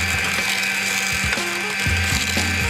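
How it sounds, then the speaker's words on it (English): Softened butter and sugar are creamed together for chocolate spice Easter biscuits, giving a steady mechanical whirring with rhythmic clunks and rattles close by, with no talking. "I'm going to cream the butter and sugar."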